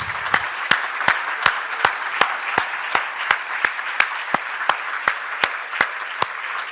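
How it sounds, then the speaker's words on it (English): Steady applause from a crowd at a conference closing session, with sharp regular clap peaks standing out over a dense wash of hand claps, continuing throughout. "I think they all merit a hand of applause."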